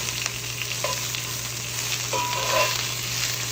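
Garlic and pork frying in a pan, a steady close sizzle with a couple of soft stirring scrapes and a low background hum, no voices.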